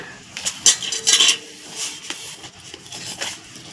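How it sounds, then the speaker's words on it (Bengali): Dry lentils (dal) are poured into a jar and shaken, making a loud, close rattle of grains against the container in several short bursts, with no talking. "বাকি যে ডালটা আছে সমস্ত ডালটা জারে ঢেলে নিব এইভাবে একটু ঝাঁকুনি দিয়ে"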